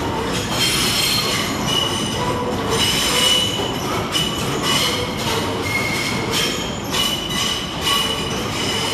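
Trains arriving and departing at London Liverpool Street station, loud continuous rumble of rolling wagons with wheel squeal and clickety-clack over the rails, echoing under the station roof.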